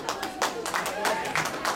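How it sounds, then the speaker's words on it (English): Crowd applause after a folk dance performance on stage, brisk overlapping claps for a couple of seconds while an announcer's voice carries on over them. "A big round of applause"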